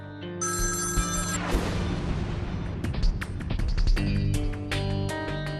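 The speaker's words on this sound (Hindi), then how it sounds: "Pick up the phone." A telephone rings repeatedly in a Hindi TV serial scene, with electronic ringtone bursts set against dramatic background music and booming hits; no speech is heard during the ringing.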